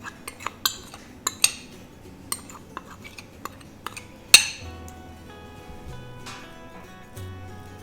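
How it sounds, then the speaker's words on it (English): Kheema patty mixture with coriander paste, turmeric and salt being mixed in a bowl, with sharp metal spoon clinks and scrapes against the dish, busy at first, then sparser with a single loud clink midway. "And I'm just going to mix this in."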